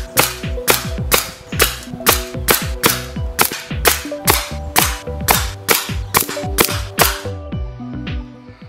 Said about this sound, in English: Let me rather stop shooting, even though I've got some pellets left in the magazine.